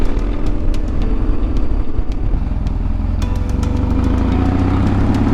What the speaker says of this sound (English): Vamos with a little bit of handbrake.